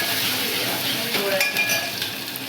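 Onion sizzling in hot oil in a home kitchen pan for idli sambar, a close, continuous frying hiss with faint clinks of utensils.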